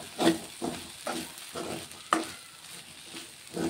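Potatoes being stirred with Kitchen King masala and sambar powder in a pan, giving a steady series of scraping strokes roughly twice a second over a soft, close sizzle.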